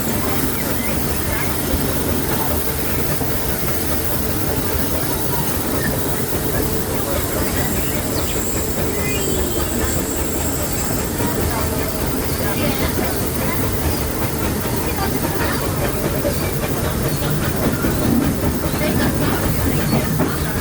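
A rumbling mine-train roller coaster at Disneyland clatters along its track with steady rattling and hiss, a continuous loud mechanical roar with faint voices in the background.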